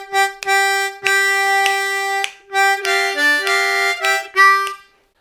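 Tongue-blocked octaves played on a C harmonica, 3/6 blow, sound as four clean sustained chords followed by a short rest and a few shorter bent notes. The playing is solo, close and clear.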